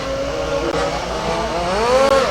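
A rally race car's engine being restarted during a stoppage on the track, running with a steady tonal drone that climbs in pitch toward the end as it revs.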